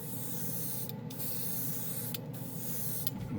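A Mr. Hobby GSI Creos Custom PS-771 airbrush sprays black primer in a steady, close hiss that runs almost without a break, with a few short dips where the trigger eases off.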